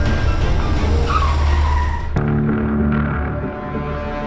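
A car races flat out in a chase, its engine roaring loud and close as tires screech and skid, then a sudden jolt and the engine settles into a steady drone.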